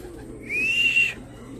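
A racing pigeon gives a single soft, rising call lasting about half a second as birds return to a club loft during a training race in Tanay, Rizal, heard fairly close over a quiet background.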